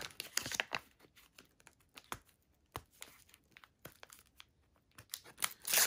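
Wax pack of 1979 Topps baseball cards being torn open and handled, a string of sharp close crinkling and tearing bursts with brief pauses, no talking.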